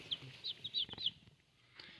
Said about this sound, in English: And these birds are chirpy today.